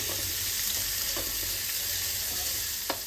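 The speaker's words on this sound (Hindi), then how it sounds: "अब प्याज को हमें अच्छा कलर आने तक भून लेना है।" Chopped onions with cumin and carom seeds fry in a pan with a steady, continuous sizzle, plus a few faint stirring scrapes and small pops, and no talking.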